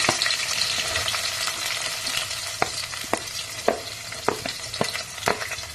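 Chopped onion and curry leaves fry in oil after mustard seeds and cumin, a steady close sizzle punctuated by sharp spoon clacks against the pan, no voices.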